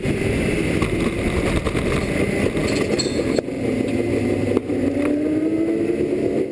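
A BMW M3 race car at the 24-hour race in Dubai drones steadily with a loud, continuous engine roar, heard from on board, with a brief knock partway through and no talk.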